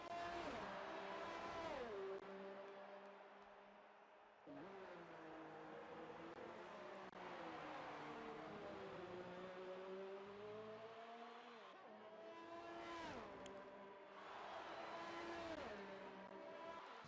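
Formula 1 cars in the F1 2019 racing game scream through gear changes, engine pitch rising and dropping repeatedly as they accelerate and pass one another, steady and continuous throughout.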